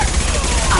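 Heavy gunfire in a video game battle, a dense continuous rumble of shots that fills the short moment at close range with a voice talking over it.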